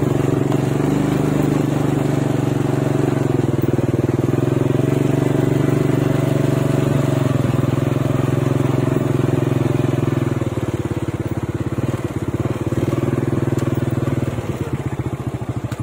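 A motorcycle engine idles steadily up close, a loud continuous low drone with a slight rhythmic throb and clatter that roughens toward the end, heard outdoors near a steaming cliff area.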